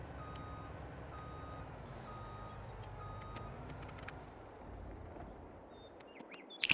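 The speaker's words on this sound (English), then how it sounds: "So I'm just going to park the truck over the back over here" A truck in Farming Simulator backs up into a parking spot, its reversing alarm beeping in a steady repeating rhythm over a low engine rumble, with a few sharp clanks near the end.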